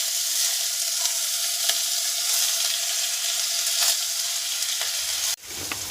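Garlic, chili and capsicum fry in hot oil in a pan for homemade noodles, a steady close sizzle with faint stirring scrapes and a brief clatter near the end, no talking.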